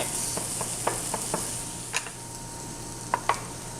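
Ground meat sizzling in a frying pan while a utensil breaks it up, a steady close hiss of frying punctuated by several light scrapes and taps against the pan.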